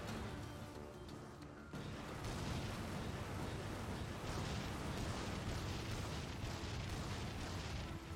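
Explosions in Darksiders II Deathinitive Edition boom and rumble in a loud, sustained burst of blasts, with debris noise rolling on after them.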